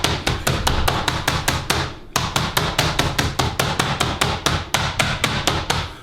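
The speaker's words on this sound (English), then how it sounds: "just gonna hammer this guy away a little bit" Rapid, steady pounding of a mallet flattening chicken breast, two dozen or so sharp thuds in an even rhythm with one brief pause, close and loud.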